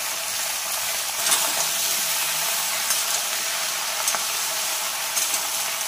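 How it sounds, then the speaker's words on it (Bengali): Vegetables frying in a pan with salt and turmeric, a steady loud hissing sizzle with a few faint clicks, no voices. "এবার এর মধ্যে নুন হলুদ দিয়ে এগুলোকে লাল লাল করে ভেজে নেব।"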